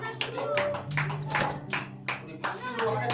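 A church congregation claps for its worship team at a New Year's Eve service, uneven bursts of hand claps under and between a speaking voice.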